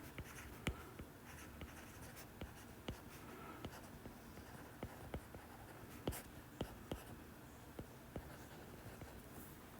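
Pen or pencil writing out a gas-law equation on paper, with a quiet run of scratchy strokes and distinct tapping dots, close and alone with no talk.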